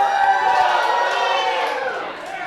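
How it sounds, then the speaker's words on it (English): A wrestling crowd roars and cheers steadily for the Wanderer, a dense, loud wash of many voices that holds throughout and eases slightly at the end. "I am very impressed with the crowd response to the Wanderer."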